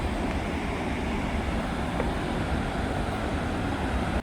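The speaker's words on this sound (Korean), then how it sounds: "계단을 내려가니 멀리서 우렁찬 물소리가 들리네요" The Jiktang waterfall on the Hantan river, where the river drops in steps over hardened lava rock, gives a broad, steady roar of rushing water that holds constant until it cuts off abruptly at the end.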